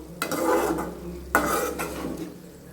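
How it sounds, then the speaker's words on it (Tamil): Grated coconut stirred and sautéing in ghee in a pan, two bursts of scraping stir strokes over a soft, steady sizzle, close and moderately loud. "இந்த நெய்யிலேயே வதக்கிட்டு இனிமேல் நம்ம தேங்காய் பாலையும் பசும்பாலையும் இதில் சேர்க்கணும்."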